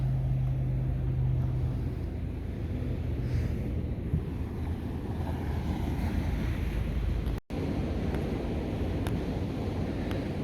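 Ocean waves wash steadily along the La Jolla shore at low tide in Southern California, a constant broad roar of surf mixed with heavy wind buffeting, with a brief dropout partway through and no talking.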